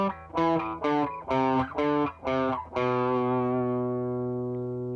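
Distorted electric guitar plays a riff variation in steady time, a run of six or seven punchy notes and then one long sustained note that slowly decays, played alone and close.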